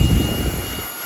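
A Fanttik Fold V10 Ultra cordless vacuum running on its high speed mode, a loud, steady, close whine and airy rush that dips slightly toward the end.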